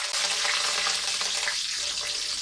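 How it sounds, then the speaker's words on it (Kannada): Mustard seeds, asafoetida and curry leaves sizzling in hot oil for a poha dish, a loud, steady hissing crackle with scattered pops and no voices. "ನೋಡಿ, ಸಾಸಿವೆ ಸಿಡಿತಾ ಇದೆ."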